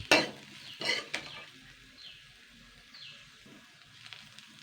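Cooked chechi greens with ghee, chilies and peanuts being scraped from a pan into a bowl: two or three close metal-spoon scrapes and clinks at the start, then faint, sparse handling sounds.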